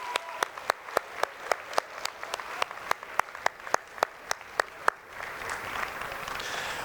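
A single pair of hands claps in a slow, even rhythm, about fifteen sharp claps, before a brief burst of wider audience applause at a speech competition.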